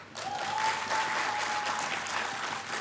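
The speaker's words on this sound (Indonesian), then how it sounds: "Tepuk tangan boleh?" An audience at the launch of Indonesia's 2021 tourism village awards breaks into sustained clapping, a full, even wash of many hands with a faint steady tone running beneath it.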